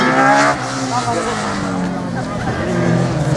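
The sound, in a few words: Suzuki Baleno RS02 slalom race car with motorcycle engine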